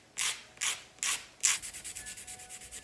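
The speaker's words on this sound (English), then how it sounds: "I'm going to go ahead and file and shape the nails." A nail file is worked over clear polygel nails to shape them, opening with four slow, loud rasping strokes and moving into a quicker run of shorter, lighter scrapes, all close and without talk.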